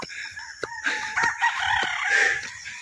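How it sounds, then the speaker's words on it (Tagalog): A rooster crows outdoors, loud and close, with a rising cock-a-doodle-doo call that holds for a couple of seconds amid faint background noise. "Nadaanan natin yan yung manok kanina."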